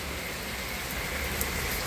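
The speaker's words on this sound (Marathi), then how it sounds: "बाहेर पाऊस बघा" Rain pours down outdoors at night during a cloudburst, a dense, even roar of drops hitting surfaces, loud and unbroken.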